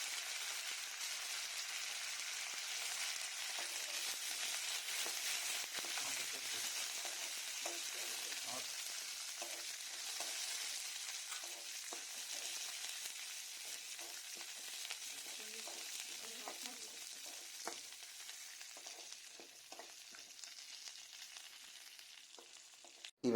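Chana dal, curry leaves and crushed garlic fry in a pan with a constant hiss of sizzling oil, broken by scattered spoon scrapes and stirring taps throughout.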